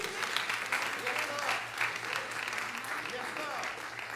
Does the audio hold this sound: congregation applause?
yes